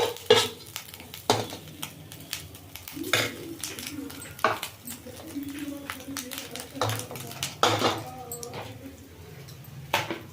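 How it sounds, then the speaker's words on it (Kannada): Egg and prawn stir-fry being scooped from a pan into a bowl, with spoon scrapes and clinks of metal on cookware in irregular bursts at close range, while a voice talks over it. "ಇದನ್ನೊಂದು ಬೌಲ್ಗೆ ಹಾಕ್ತಾ ಇದ್ದೀನಿ."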